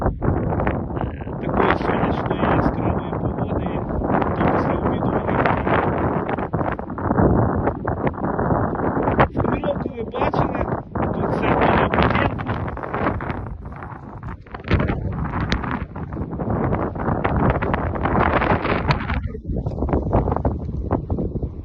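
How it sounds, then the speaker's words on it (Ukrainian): Strong wind buffets the microphone in loud, continuous gusts over an apricot orchard field, with a person talking beneath the roar. "на полі ми навіть не можемо вийти, тому що дуже сильний вітер"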